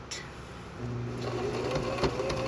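A sewing machine stitches a fabric sleep mask with batting, a soft, steady mechanical whir that starts faint and grows slightly louder, with a few light clicks near the end.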